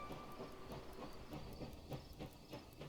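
A steam train rolls along in a video game, with steady hiss and a regular clickety-clack of wheels on rails, continuous and fairly faint, with no talking.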